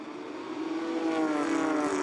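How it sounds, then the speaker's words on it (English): Porsche 992 Cup race cars on the formation lap at Imola, heard as a short steady engine drone that swells slightly, with no talking. "Sound of these Porsche 992 Cup cars waking up the locals this morning at the start of Sunday's racing action."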